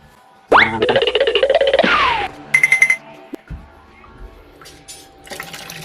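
Water runs from a newly fitted sink tap after a plumbing repair, a loud close gush with ringing, warbling tones that fades into splashing and trickling with a few knocks.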